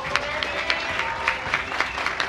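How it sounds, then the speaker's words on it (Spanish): Audience applause at an award ceremony honoring an actor, a steady wash of many hands with some louder individual claps popping out regularly, fairly close and moderately loud. "un aplauso por favor"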